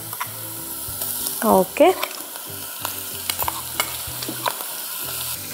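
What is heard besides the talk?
chillies frying in a pan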